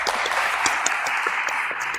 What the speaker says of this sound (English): One last big round of applause to everyone.